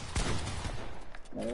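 Gunfire in Fortnite creative mode crackles as a dense, continuous burst of shots under loud game noise, with a voice briefly audible near the end.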